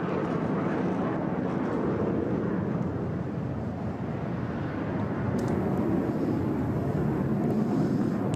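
A HAL Tejas fighter jet roars over the Bahrain air show, a loud, continuous broadband rush of engine noise that stays steady and close throughout with wind buffeting the microphone.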